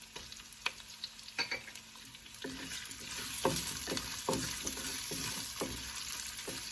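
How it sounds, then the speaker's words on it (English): South Indian tempering ingredients, including diced raw mango, crackle and fry in hot oil with a dense sizzle that grows louder partway through, broken by scraping stirs and taps of a spoon against the pan. "We'll just roast these tempering ingredients in the oil for about 1 minute"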